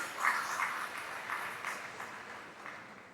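Applause from an audience at a Rotary club installation ceremony, a steady patter of many hands clapping at moderate level for a few seconds, gradually easing off.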